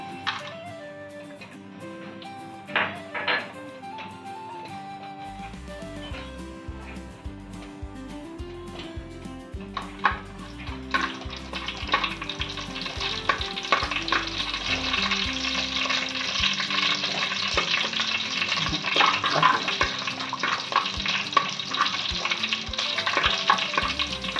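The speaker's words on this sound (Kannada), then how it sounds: "ಎಣ್ಣೆ ಹಾಕ್ತೇನೆ. ಈಗ ಗರಂ ಮಸಾಲೆ ಎಲ್ಲ ಹಾಕ್ತೇನೆ." Garam masala spices fry in hot oil for a clams pulao, starting with a quiet hum and light clatter, then swelling after about ten seconds into a loud, steady sizzle with stirring scrapes throughout.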